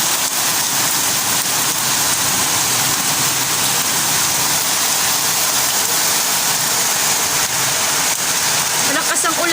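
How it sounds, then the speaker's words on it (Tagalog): Loud, heavy typhoon rain from Wilma roars continuously close by, a thick unbroken wash of drops pounding surfaces, with faint wind and a possible murmur of distant sound underneath. "Malakas ng ulan guys."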